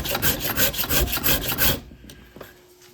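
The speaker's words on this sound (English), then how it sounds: "so I'm using the Shinto rasp to flatten this out" A Shinto rasp flattens a wooden axe handle made from rived lumber, giving about two seconds of steady, rhythmic rasping strokes close up. The strokes then stop, leaving near silence with a couple of faint taps.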